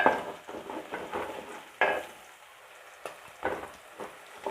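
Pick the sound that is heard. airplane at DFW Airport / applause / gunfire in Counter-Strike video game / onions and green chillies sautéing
onions and green chillies sautéing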